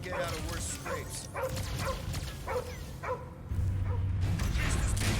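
In the video game Marvel's Guardians of the Galaxy, dogs bark in a steady run of sharp barks and yips while characters talk over them amid game noise.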